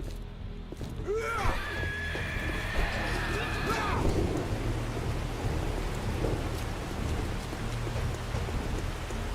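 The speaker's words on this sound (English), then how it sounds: "It's raining, it's It's pouring." Heavy rain pours down in the 7 Days to Die video game, a dense steady hiss with rumbling low thunder, and a whining tone briefly rising over it early on.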